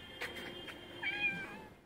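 A pet cat gives a single drawn-out meow near the middle, faint and close, against a quiet indoor background with a few soft rustles before it.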